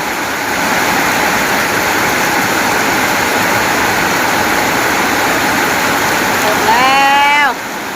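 Heavy rain with wind pours down steadily as a broad, loud wash throughout, with a brief tonal squeal rising near the end.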